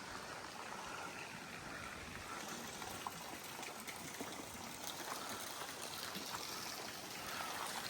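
Water gushes steadily out of a large 3-inch pipe on a farm, a continuous rushing, splashing flow that stays even and fairly close for the whole stretch, with no voices.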